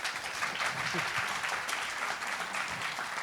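Audience applause at a Doha Forum panel discussion on Arab public opinion and the Gaza war, a steady wash of clapping at moderate level lasting a few seconds with some faint voice underneath.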